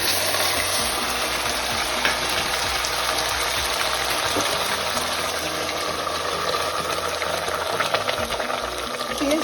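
Onion paste and cumin frying in a pan of oil for Delhi-style chhole, a steady close sizzle with faint stirring running throughout.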